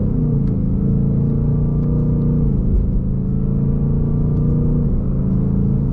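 A Ford Mustang GT's V8 engine drones from inside the cabin on light throttle, a loud, continuous low rumble that climbs gently in pitch, with no talk over it.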